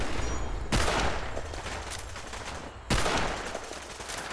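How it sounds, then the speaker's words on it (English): Nail gun fire in a first-person shooter video game, two loud, close bursts of sharp rapid shots, each followed by a crackling, rattling tail of continued firing, no voices. "I could tell from the nail gun fire"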